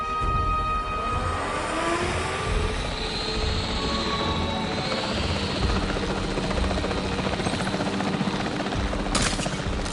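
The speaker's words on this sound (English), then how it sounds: "The priority needs to be tranquilizing it with the capture team chopper." Capture team helicopter in the video game Jurassic World Evolution, a loud, steady rotor and turbine drone that runs continuously without a break.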